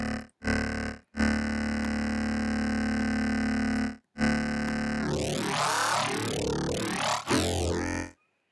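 A Blamsoft Expanse synthesizer plays a harsh, buzzing growl patch in sustained notes with brief gaps, then sweeps into wobbling, filter-modulated tones near the end, loud and alone.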